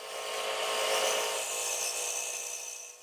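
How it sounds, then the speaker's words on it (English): A wood lathe turning a beaded rim bowl as an Easy Wood Tools rougher makes a finishing pass over the outside curves, giving a steady, close scraping hiss that holds evenly throughout with no talking. "we'll make one last pass over the outside curves with the easy rougher"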